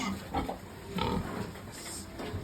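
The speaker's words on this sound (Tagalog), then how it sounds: "Yan o, mga baboy o." Pigs on a farm grunting and oinking in a few short, close bursts over a steady background hum, with no talk.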